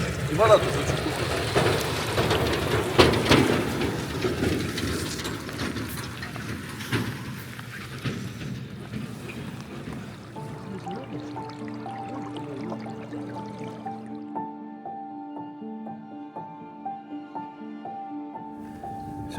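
A partly unfrozen stream flows in fierce frost in Yakutia's Oymyakon region, around −64°, with trickling, dripping water that is strongest early on, then fades as a soft tonal melody takes over.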